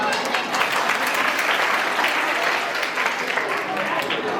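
Audience at a school cultural festival claps steadily and loudly throughout, a dense sustained round of applause with no break.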